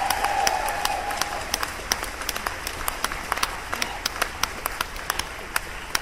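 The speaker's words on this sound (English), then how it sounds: "How about a round of applause for all these fabulous musicians?" A festival crowd applauds musicians on stage, a broad, fairly distant wash of clapping with sharper individual claps standing out, while a brief whistle or cheer rises near the start.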